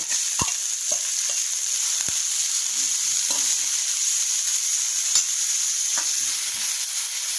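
Onion with ginger garlic paste sautéing in a pan for a Maggi masala bun, a steady soft hiss of frying with scattered sharp spoon scrapes and taps against the pan throughout.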